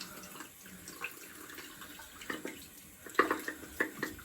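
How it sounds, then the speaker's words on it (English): Water running from a tap while a shaving brush is rinsed under it, a steady moderate splashing stream with a few sharper spattering bursts toward the end. "Wash out the brush really good."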